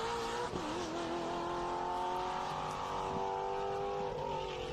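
TA, XGT, SGT and GT race cars pass during qualifying at Road America, a loud sustained engine roar whose pitch sweeps down as they go by, no talking.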